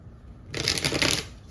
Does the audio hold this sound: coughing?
no